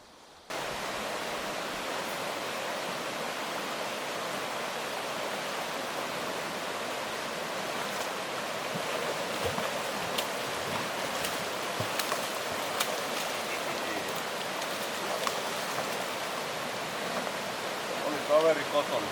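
Rushing river rapids at Läsäkoski in Finland, a steady broadband roar of white water that holds close and loud throughout with no voices.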